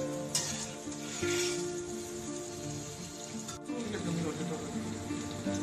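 Ingredients hit a hot, oiled wok and sizzle in a steady crackling hiss, close and moderately loud, with a clink of utensils partway through.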